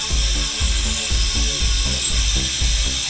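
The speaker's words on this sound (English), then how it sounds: "here's me cutting with a bandsaw." A bandsaw cuts a wooden piece to fit a sink, its steady motor whine and blade hiss loud and close, with a low rhythmic pulsing underneath throughout the short stretch.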